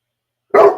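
A pet dog at home gives a single sharp, loud bark close by after a moment of silence.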